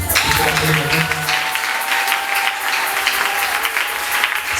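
A church congregation claps steadily and loudly throughout, a dense wash of applause with a voice calling out briefly near the start.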